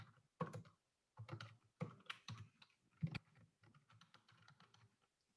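A name typed on a computer keyboard, with bursts of quick, close key taps separated by short pauses and a few louder keystrokes, heard alone.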